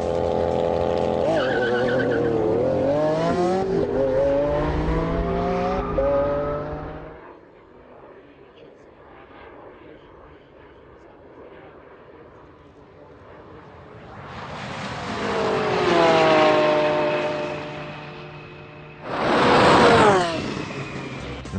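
A rear-wheel-drive McLaren 650S with a twin-turbo 3.8-litre V8 drag races a Lamborghini Aventador: loud engines rev and climb through gear changes, fade almost to silence, then surge back as more hard accelerations roar past.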